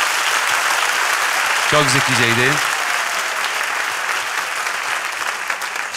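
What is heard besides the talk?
audience applause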